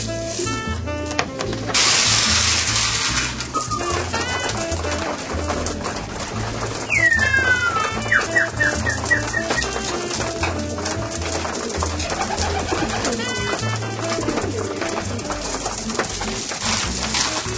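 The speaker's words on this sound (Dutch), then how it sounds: "Ik laat nou die jonge duiven even binnen." Young racing pigeons in a loft cooing repeatedly nearby, soft throaty coos mixed with wing flutters and wooden knocks, continuing throughout with no voices.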